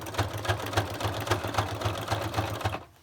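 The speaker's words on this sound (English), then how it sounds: "My poor sewing machine." A sewing machine runs a zigzag stitch along a fabric journal cover in a quick, even mechanical rhythm of needle strokes, close and fairly quiet, ending abruptly.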